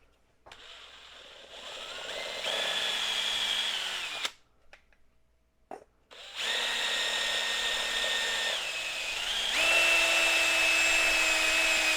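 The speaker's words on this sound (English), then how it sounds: "Just gonna drill that puppy out, grab ourselves a steppy step bit." A power drill fitted with a step drill bit bores through a car bumper to fit an air coupler. It whines in long runs with a pitch that shifts as the bit steps up, and a brief pause splits two bursts.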